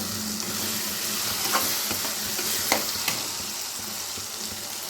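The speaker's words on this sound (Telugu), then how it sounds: "టమాటా ముక్కలు అయితే వేగిపోయినాయండి." Tomato pieces fry in a pan with a steady, dense sizzle close by, punctuated by a few soft scraping clicks as they are stirred; there is no talking.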